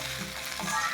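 Chicken fried rice sizzles and crackles in a hot pan as it is stir-fried, with short scraping stirs cutting through the steady frying, close and fairly loud.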